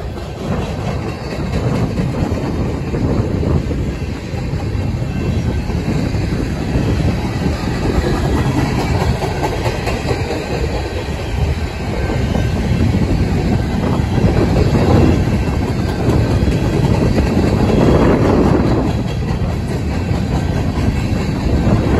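BNSF freight train rolling past on the rails, a long steady rumble with clattering wheels and occasional swells of louder noise, close and continuous with no talk.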